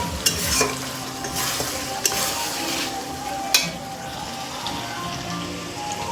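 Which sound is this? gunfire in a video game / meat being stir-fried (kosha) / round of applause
meat being stir-fried (kosha)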